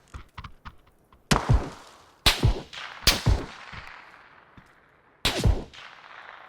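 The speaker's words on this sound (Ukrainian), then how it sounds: "Справа якісь глухарі стріляють." Several sharp, loud gunshots in PUBG, a few quick distant pops first, then heavy bangs at irregular intervals with echoing tails.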